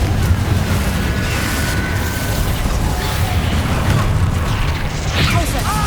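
Confringo blasting spell in the video game Hogwarts Legacy, heavy booming explosions and crackling bursts in a loud, continuous battle mix of rumbling impacts and debris, with no clear pauses.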